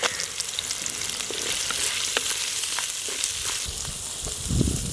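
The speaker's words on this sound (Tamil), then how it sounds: "வெங்காயம் பூண்டு நல்லா வதங்கிடுச்சு பச்சை மிளகாய் சேர்த்துக்கலாம்" Onion, garlic and green chillies sauté in a pan for a banana stem curry, a steady close sizzle with light stirring scrapes, swelling near the end.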